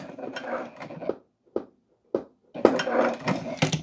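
A sewing machine stitches a backstitch on fabric for a crescent moon bag, running in short mechanical bursts that stop and start again with brief pauses between.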